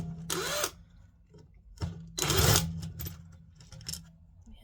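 A power drill backs T15 screws out of a Rheem gas water heater in several short whirring bursts, one brief and two longer, separated by quiet pauses.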